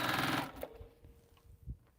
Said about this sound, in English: So we're going to sew 1/4 inch seam here.